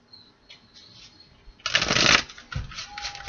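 Oracle card deck being shuffled by hand, a soft riffle building to a loud brisk burst of flapping cards and a couple of short follow-up shuffles, close up.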